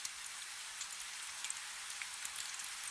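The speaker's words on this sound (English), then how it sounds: "The rain is still falling, louder now in the silence of the evening." Steady rain falls on a stone cloister in the evening, a soft even hiss with faint scattered drops, quiet and alone.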